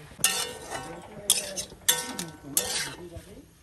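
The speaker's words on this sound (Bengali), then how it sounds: "চাল কুমড়োগুলো ভাজে নেবো ভালো করে" Spatula scraping and clinking against a pan in several bursts, with a faint sizzle of ash gourd frying with turmeric underneath.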